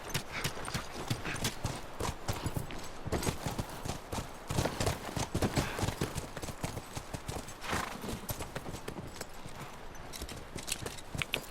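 Horse hooves clip-clop steadily in The Last of Us video game. The rapid, dense hoofbeats carry on without a break for about eleven seconds, loud and close, and one or two faint whinnies are mixed in.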